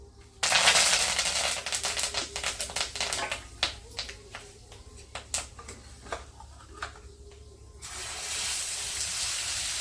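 Curry leaves dropped into hot oil for a tempering on a village wood-fired stove burst into loud hissing, then sputter in sharp pops and crackles that gradually thin before the steady sizzle swells again.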